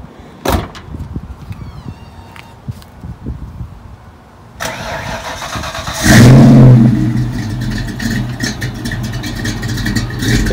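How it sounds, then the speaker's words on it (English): A Ford Mustang heard from outside: a door thud and clunks, then the engine fires up with a loud rising roar and keeps revving and pulling away, rough and close, with no talking. "It's the first time I ever heard my car from the outside myself."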